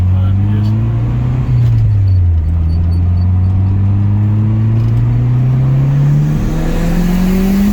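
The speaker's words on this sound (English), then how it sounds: "I'm gonna do a second gear pull." A car with a new motor and a blown turbo revs hard through a second gear pull, its engine note climbing steadily with a brief dip as the gear changes, loud and close throughout.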